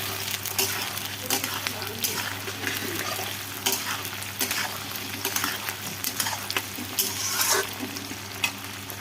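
Onions and potatoes frying in a pan for chicken curry, a steady sizzle under a constant low hum, punctuated by scraping stirs and sharp spatters.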